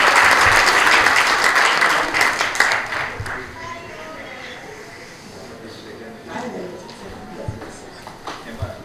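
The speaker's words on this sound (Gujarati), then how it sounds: "ખાસ જોરદાર તાળી લઈ જાય" Audience applause at a student felicitation ceremony, loud and dense at first, then thinning into scattered claps and shuffling before swelling slightly again near the end.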